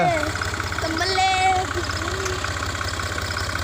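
A tractor engine chugs at idle nearby, a steady low rhythmic knocking pulse under intermittent voices talking.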